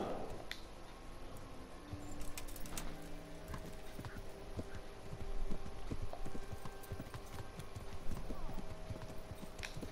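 Steady clip-clopping horse hooves with a brief whinny in the video game Kingdom Come: Deliverance, over constant background game ambience and scattered clatter.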